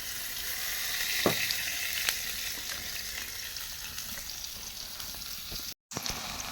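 Soybean oil sizzles steadily in a frying pan, a continuous close hiss and crackle with a couple of faint clicks and a brief drop-out near the end, for a home-cooked dish of fish and bean seeds.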